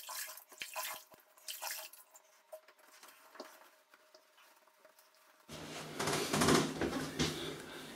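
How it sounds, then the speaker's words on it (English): Water running from a tap while face scrub is rinsed off, faint scattered drips and clinks at first, then a louder steady splashing flow near the end. "I'll just rinse it off now."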